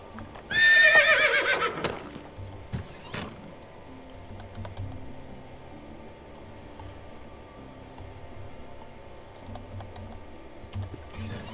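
A horse in the medieval life-sim game Medieval Dynasty gives a loud, close whinny at the start, followed by clip-clop hooves, clicks and a low ambient game bed.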